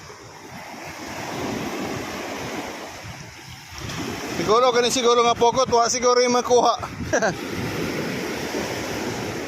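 Rough, muddy-brown sea churns and roars during heavy rain along the shore, a continuous loud wash of surf and wind noise, with someone talking over it and a brief burst of higher-pitched sound in the middle.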